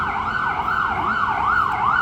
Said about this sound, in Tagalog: Alam niyo guys, yung mga ambulansya na yan,